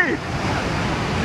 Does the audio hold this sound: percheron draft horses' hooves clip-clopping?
no